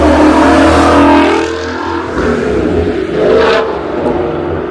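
A car speeds through the corners of the Hawk's Nest road, a winding road in New York, its loud engine revving and roaring continuously nearby, swelling and easing as it accelerates.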